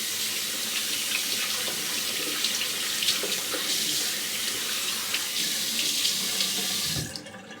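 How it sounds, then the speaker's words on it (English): Steady rush of tap water running into a sink while hands are rinsed, continuous and close for about seven seconds before the flow cuts off near the end. "then just wash my hands"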